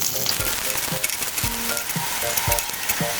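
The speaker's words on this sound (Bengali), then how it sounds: "এখানে আমি দিয়ে দিচ্ছি রসুন কুচি আর শুকনো মরিচ। এগুলোকে আমি একটু ভেজে নিব।" Chopped garlic and dried chillies frying in hot oil, a steady loud sizzle broken by repeated scraping stirs at a brisk, uneven rhythm, close up with no voices.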